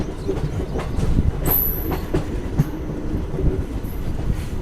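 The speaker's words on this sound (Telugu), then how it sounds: "ట్రైన్ వచ్చేసి ఖమ్మం నుంచి అయితే బయలుదేరిపోయింది." The Krishna Express rolls out of Khammam station, its wheels clicking rhythmically over rail joints beneath a steady rumble, with a brief high squeal from the wheels and a continuous moving-carriage roar.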